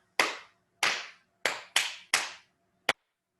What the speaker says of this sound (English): We're going to be clapping 5 times for each of the letters.